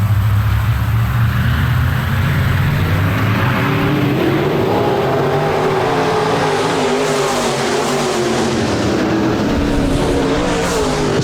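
IMCA Modified race cars roar together at Park Jefferson Speedway as the field takes the green flag, several loud engines droning and revving steadily for the whole stretch.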